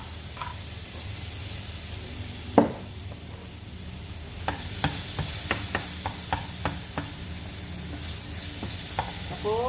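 Garlic sizzles steadily in a frying pan with a constant hiss, while a utensil stirs and scrapes against the pan in a run of small, close, regular clicks.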